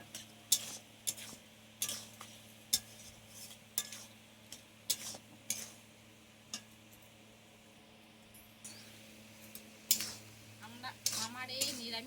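A spoon clatters and scrapes against a pan while stirring a vegetarian pumpkin curry with green chillies and sugar, giving irregular sharp knocks over a faint background hum.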